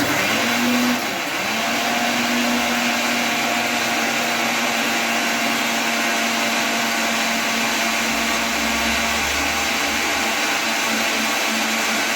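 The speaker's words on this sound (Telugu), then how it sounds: "ఒక 30 సెకండ్స్ మిక్సీలో ఇలా తిప్పేస్తే ఇది ఇలా ప్యూరీ రెడీ అయిపోతుంది." A mixer grinder runs continuously, blending mango into a smooth puree with a loud, steady motor whine and a churning roar that holds for the full length.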